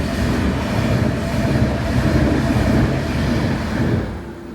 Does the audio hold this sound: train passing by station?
yes